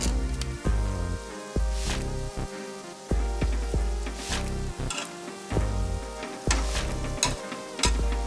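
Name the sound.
food frying in hot oil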